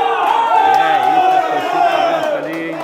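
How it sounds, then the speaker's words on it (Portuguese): Crowd at a bocce final bursts into loud cheering and whooping, with excited voices rising together and then tapering off over a few seconds. "A torcida vai ao delírio, hein?"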